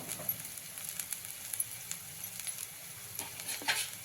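Spices and masala sauté in a pan for a Maharashtrian green chickpea curry, giving a soft, steady sizzle with scattered light clicks and patters from stirring, close but fairly quiet.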